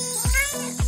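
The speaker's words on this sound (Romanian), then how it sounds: "Ai auzit? Sunt niște pisicuțe, vezi?" Kittens mewing in a lighthearted cartoon-style food prank scene: two short, close cries a little over half a second apart, heard over a steady background with no talking.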